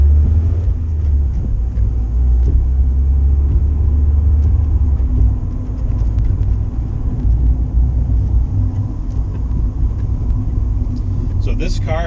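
A 1991 Mazda Miata being driven, a low steady engine and road rumble inside the cabin that continues throughout, with a brief higher whine near the end.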